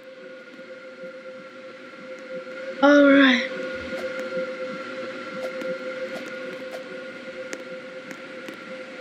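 A Roblox Stepford County Railway train pulls into a platform, its horn blasting briefly and loudly over a steady mechanical hum with scattered clanks, and a voice speaks a couple of words.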